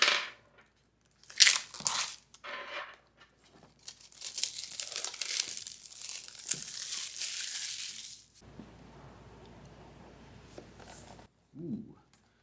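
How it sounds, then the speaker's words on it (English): The packaging of an Apple TV 4K box is pierced and opened with a small plastic tool: bursts of crinkling and tearing, then a longer stretch of steady rustling and scraping, quiet and close, with a brief thump at the end. "I didn't know that we were going to be unboxing this with a knife because I thought they had pull tabs now."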